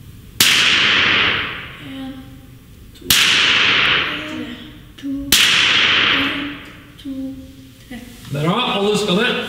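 Rifle shots ring out at an evening shooting school, three sharp loud cracks a few seconds apart, each decaying into a short echo, while people talk quietly in between.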